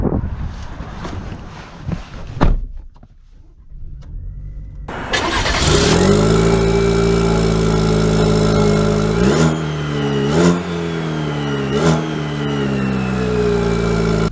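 A 2023 Chevy Silverado 1500 Custom pickup truck engine starts and settles into a steady idle, then revs several times as it pulls away, loud and close.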